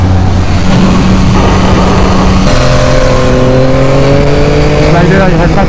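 A 2021 Yamaha MT-07 or MT-09 motorcycle accelerates hard out of a curve, its loud engine tone climbing steadily in pitch, dropping at a gear change, then rising again.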